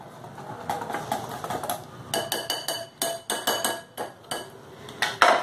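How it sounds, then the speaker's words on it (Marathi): A spoon stirs dhokla batter in a bowl, making bursts of quick, rhythmic clinks and taps against the sides, loud and close, with brief quiet gaps between rounds. "कढईतल्या पाण्याला उकळी येऊ लागली हे मिश्रण परत हलवून घ्यायचं"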